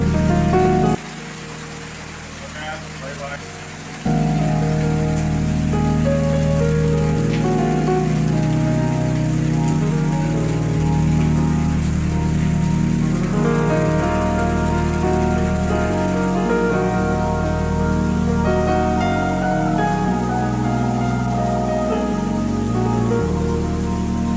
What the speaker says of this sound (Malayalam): മഴ തകർത്ത് പെയ്യലാന്നേ